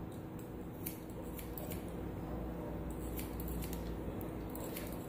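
Scissors snip a client's hair in a salon in soft, repeated close cuts over a constant background hiss, with no talking.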